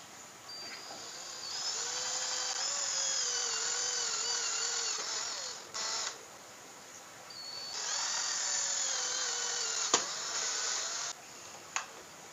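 A power drill with a 7 mm bit whines steadily in two long bursts, its motor pitch shifting as it bores into a bottle, with short pauses and a few sharp clicks between runs.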